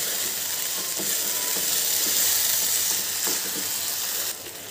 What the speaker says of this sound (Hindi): इन तीनों चीज़ों को हमें बहुत अच्छे से मिक्स कर लेना है